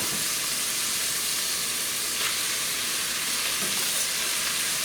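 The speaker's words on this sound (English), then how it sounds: "So the meat has been browned, and we are going to add our onions." Onions sizzle in olive oil inside a Dutch oven after browned meat, a steady close hiss and crackle of frying that continues evenly throughout with no talking.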